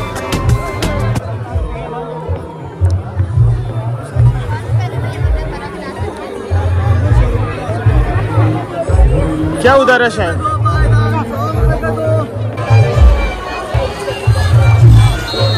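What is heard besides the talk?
crowd bustle at a busy Indian fair (mela)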